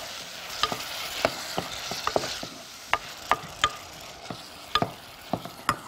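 Diced tomatoes frying in oil in a pan, a steady soft sizzle under repeated sharp clicks of a spoon stirring against the pan, close and alone.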